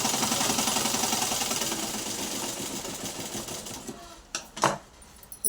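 A sewing machine runs steadily, stitching the folded hem of a silk skirt (pattu langa) with a fast, even mechanical whir that fades out, followed by a few brief clicks and handling knocks at the end.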